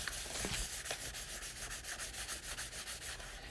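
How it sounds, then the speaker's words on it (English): Two smooth solids are rubbed against each other in quick back-and-forth strokes, making a close, steady, scratchy swish that pulses evenly with no voices. "when you rub two smooth solids together"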